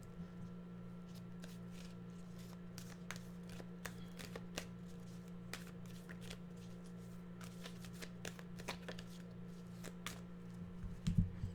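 Tarot cards shuffled by hand, a steady run of crisp riffling slaps close by for several seconds over a low background hum, with no talking.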